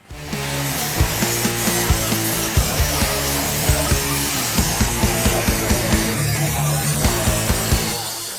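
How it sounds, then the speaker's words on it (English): A power tool cuts through an old welded-in steel plate on a 1939 Hudson truck cab, a loud steady grinding whine with regular rhythmic pulses that runs the whole time, close up, with no talking. "So I think I'm just going to cut this complete piece out and replace it."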